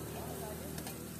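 Boiled potato being stir-fried into biryani fried rice in a pan, a brief, faint, steady sizzle with a scrape of stirring.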